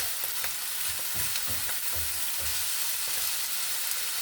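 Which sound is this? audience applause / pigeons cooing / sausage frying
sausage frying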